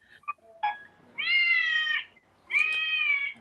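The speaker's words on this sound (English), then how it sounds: "a bunch of cats singing." Musical birthday card playing a chorus of cat meows as a tune: short clicks and chirps at the start, then two long, loud, sustained harmonic meow-like notes, with no talk over them.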